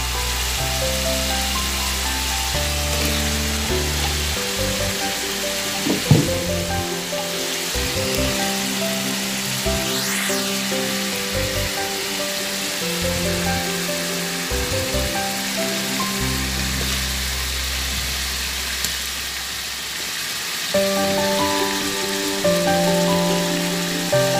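Radish pieces fry in hot spiced oil, a steady crackling sizzle like rain on a surface, close and loud, broken by occasional stirring knocks.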